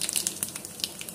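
Cumin and mustard seeds sizzle in hot ghee, a light, crackly spitting with small pops close by, alone with no voices.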